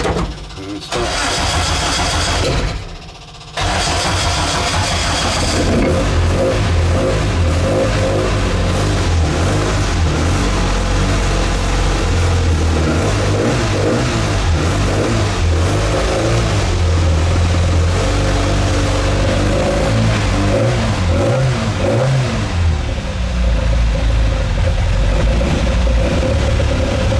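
A classic Mini track car engine cranks over, catches and settles into a loud, steady running note, with a brief dip after the start and a few revs rising and falling near the end; a person talks over it.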